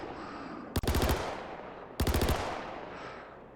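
Lumin V submachine gun in Star Citizen fires two loud three-round bursts about a second apart, each crisp volley of close shots trailing off into a short reverberant tail.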